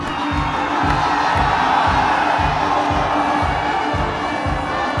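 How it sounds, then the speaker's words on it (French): A large crowd at a political gathering in Guinea cheers and shouts loudly, a continuous roar of many voices with rhythmic pulsing, likely chanting or clapping, running steadily throughout. "applaudissez la partie là."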